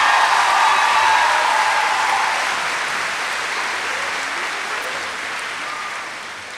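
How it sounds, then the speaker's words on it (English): A high school graduation audience breaks into applause, loud and dense at first, then gradually thinning and fading across several seconds, with no voices over it. "but a round of applause for Marcus"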